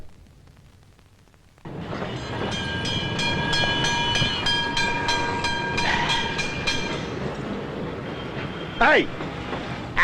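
A tram starts rolling with a loud rumble and rhythmic wheel clatter on the rails, a squeal near the end, with voices faintly underneath.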